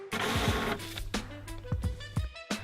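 A home printer works through loaded paper with whirring feed motors, mechanical clunks and sharp clicks that come in irregular bursts at close range, with no talk.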